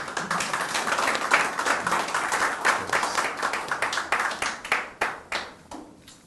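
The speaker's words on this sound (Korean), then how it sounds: "박수 부탁드립니다." Crowd at a political campaign launch press conference claps in response to a request, a lively burst of many hands that gradually thins into scattered separate claps before fading.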